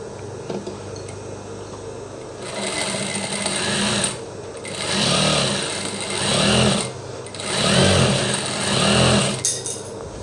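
Sewing machine stitching the leftover end of a Japanese zipper, running in several steady bursts of a few seconds each with short pauses between, close and fairly loud.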